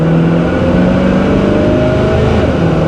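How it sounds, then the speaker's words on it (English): A 1964 Chevrolet Impala with a dual exhaust and quiet muffler set accelerates, its engine droning loud and close with a steadily climbing rumble from start to finish. "Get on it a little bit, let you hear the exhaust."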